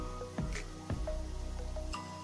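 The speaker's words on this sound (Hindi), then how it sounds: "अब इसे मिक्स करते रहें हलवे को" Thick besan halwa with khoya is stirred in a pan, giving soft, wet squishing and a few scraping strokes over a steady low hum.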